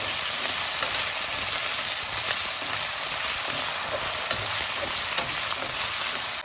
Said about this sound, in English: Now add potatoes. Sauté for 5 minutes on medium heat.